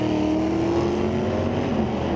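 A 1983 Monte Carlo drag race car roars off the line at Mission Raceway Park, its engine note loud and sustained throughout, racing beside a 1963 Pontiac with no voices over it.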